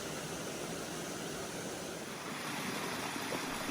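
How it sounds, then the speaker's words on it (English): A stream flows beneath a wooden footbridge in the Great Smoky Mountains, giving a steady, broadband rushing wash of water with no pauses, close and moderately loud. "this wooden footbridge which crosses a stream"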